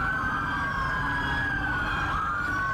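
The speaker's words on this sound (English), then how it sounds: "as you can see, police cars coming" Police sirens wail loudly and continuously, with overlapping rising and falling tones from several vehicles close by.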